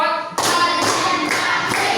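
Children in a classroom clap along to a teacher's counted rhythm, a few sharp group claps spaced through the moment, close and fairly loud with no talk between them.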